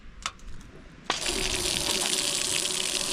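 Water gushes from an outdoor beach foot shower in winter at Protaras, Cyprus, bursting on abruptly and then running steadily and fairly close, with a faint hiss-like spray over a low tone and no talk.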